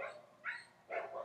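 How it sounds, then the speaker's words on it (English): Several dogs barking outdoors at a tourist spot, three short loud bursts spaced apart, fairly near, with no talking. "my dogs have been running out there barking"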